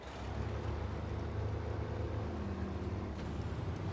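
Heavy truck in the video game SnowRunner accelerating uphill, a deep, steady low-pitched engine rumble that holds fairly constant and loud throughout, with no talk over it.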